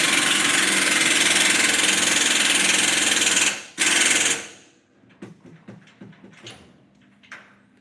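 A Ford 6.2 liter engine powering a wood chipper idles with a loud, steady drone that cuts off around the midpoint, leaving a quieter stretch of clanks and light handling noise.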